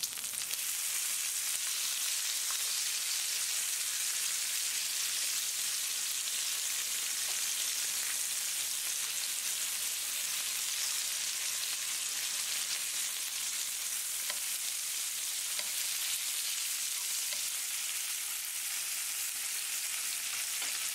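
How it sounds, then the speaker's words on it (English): Bacon frying in a pan gives a constant, dense sizzling hiss throughout, steady and fairly quiet with no pauses or talking. "Bacon looks like it's ready to flip, so I'll do that."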